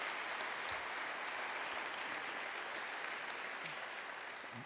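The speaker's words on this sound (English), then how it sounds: "Give General Motors a round of applause for that kind of commitment." A seated audience at a governor's service awards ceremony applauds, a dense, steady patter of clapping that holds evenly and fades slightly toward the end, with no voices over it.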